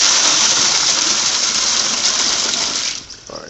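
Water carrying catfish fingerlings gushes from a basin into a pond, a loud close splashing pour that runs steadily and then tapers off abruptly near the end.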